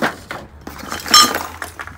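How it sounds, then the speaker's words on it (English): Glass lid handled among curbside breakables, giving a few sharp clinks and one bright ringing chink near the middle amid light rustling handling noise. "Another glass lid."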